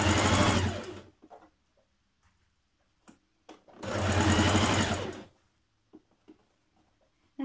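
Sewing machine stitching around the collar of a Simplicity 8546 shirt dress, running in two long continuous bursts with a brief stop between them, close and fairly loud, with small handling clicks in the quiet gaps.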